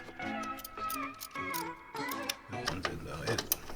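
Ratcheting wrench snugging bolts on a Subaru WRX pitch stop mount, a quick run of close mechanical clicks and ticks in short bursts, with a voice talking briefly.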